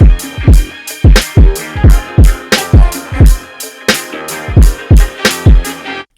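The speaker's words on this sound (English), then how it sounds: "I throw the Neve on there, it sounds like this." Boom bap kick drum run through a Neve-style EQ plugin, a steady looped pattern of punchy, rounder low hits repeating loud and clear with no voices.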